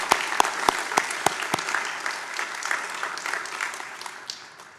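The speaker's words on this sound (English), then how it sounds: "let's give all of the staff a round of applause" Applause for the staff at an anniversary gathering, opening with a few sharp, loud individual claps before dense clapping from the room builds and then tapers off.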